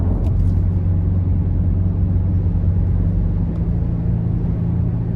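A 2018 Volkswagen Tiguan SEL with a 2.0 turbo four-cylinder drives along with a loud, steady low engine and road rumble heard from inside the cabin, continuous and even throughout with no talking.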